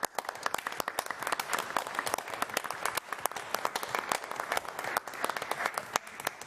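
Applause at a city council meeting, a moderately sized group clapping steadily with distinct sharp individual claps audible throughout, close and continuous without talk.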